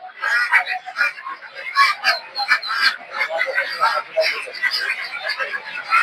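Farm ducks at a busy village poultry market, repeated nasal quacks and honks from several birds close by, mixed with background voices.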